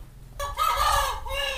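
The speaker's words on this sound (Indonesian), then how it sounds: "Ini suara ayam." A chicken outside a house gives a single loud, drawn-out call, a bit over a second long and close to the microphone, following a short quiet pause.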